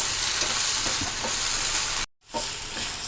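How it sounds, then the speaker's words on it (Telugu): Tamarind and tomato sizzle and fry in a pan for a radish chutney, a steady bright hiss with faint stirring, briefly cutting out near the end before resuming. "అంత చింతపండు వేసేసుకుని అవి కొంచెం వేగనిద్దాం"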